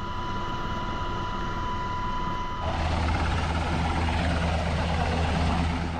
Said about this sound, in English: Helicopters are another essential tool in emergencies,